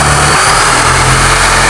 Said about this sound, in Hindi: मैं ड्रिल को अगर ऐसे दबा दूँ और इस बटन को दबा दूँ तो अब ड्रिल चलती जाएगी।